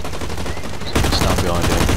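Gunfire in the online shooter Blacklight Retribution, a steady stream of loud shots that bursts in sharply halfway through and continues densely to the end.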